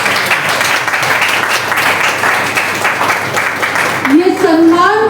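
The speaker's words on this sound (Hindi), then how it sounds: "तो सिर्फ महिलाएं, आदमियों के लिए तालियां बजाएं." Women in the audience at a Women's Day celebration applaud in loud, sustained, steady clapping, with a voice starting to speak as it trails off at the end.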